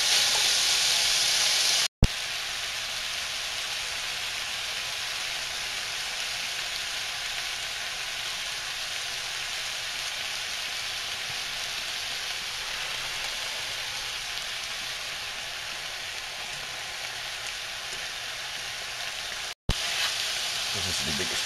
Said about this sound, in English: So make sure you cook your meat thoroughly, all the way through.